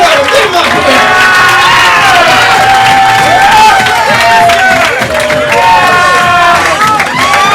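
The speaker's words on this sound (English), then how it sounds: "give a loud round of applause for Mr. Brent Goodman!" A comedy club crowd at an open-mic night cheers and applauds a first-time comedian, with loud whoops, shouts and overlapping voices riding over steady clapping throughout.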